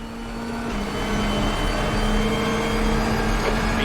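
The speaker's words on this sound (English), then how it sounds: "we've got to talk about what this car sounds like" A 2021 DTM racing car engine in the video game RaceRoom drones steadily at high revs, its pitch holding fairly even and rising slightly, loud and continuous with no speech.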